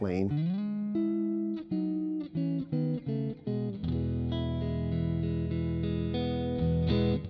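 A clean electric guitar through a Quad Cortex capture of a Friedman BE50 clean channel plays sustained notes and short chords, bright and close, with a touch of reverb and no talking.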